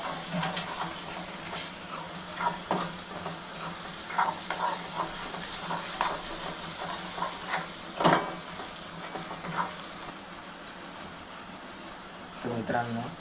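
Tomatoes stirred and frying in hot oil for kutte chi bhaji, a steady sizzle with repeated scraping strokes of a spoon against the pan, close up, fading near the end.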